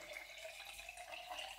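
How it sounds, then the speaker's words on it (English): Water is poured into a jar for growing a sprouting onion, giving a brief, faint trickling splash over a couple of seconds. "we are going to pour our water in our jar"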